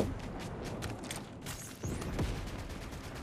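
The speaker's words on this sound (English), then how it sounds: "I don't know who's shooting at me, but I got somebody shooting at me." Rapid gunfire crackles through a Fortnite match in sustained bursts, fairly distant and steady, with a couple of louder shots partway through.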